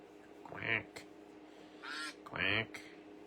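Quacking duck sounds during a duck race, heard as three nasal quack bursts, one early and a close pair near the end, over a faint steady background hum.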